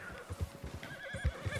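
A horse whinnies in Red Dead Redemption 2, a wild horse in the open world, its neighing layered over rhythmic hoof clip-clops with no talk.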